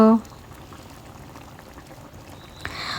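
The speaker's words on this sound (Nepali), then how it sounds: "एकछिन मात्रै मसलाहरू छिर्नको लागि मात्रै 1-2 मिनेट उमालिदिँदा हुन्छ।" Steady bubbling of an eggplant curry simmering in a pan, a soft continuous burble with a brief louder splash near the end.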